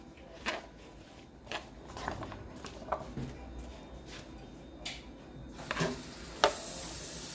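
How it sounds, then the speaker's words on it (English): Onion and seasonings sautéing in oil and butter for Jamaican steamed fish, a soft low sizzle broken by scattered clicks and scrapes of stirring, with a brief bright hiss near the end and a voice speaking intermittently. "Let that go ahead and saute up"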